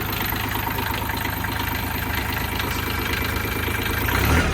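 A Sonalika 20 hp tractor's diesel engine idles steadily and close by, a continuous low rumble with a rhythmic knock that swells slightly near the end.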